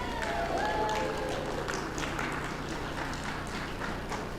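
Audience clapping for award winners at a volleyball awards night, a broad steady wash of applause that holds at an even level throughout, with a few voices and whistles mixed in.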